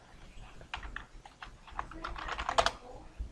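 Someone types a short command on a computer keyboard, a quick close run of light key clicks that speeds into a dense burst near the end.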